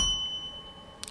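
A single bright bell ding rings out near the end, brief and clear, after a stretch of near silence with faint steady tones.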